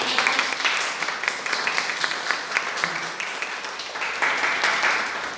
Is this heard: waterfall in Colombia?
no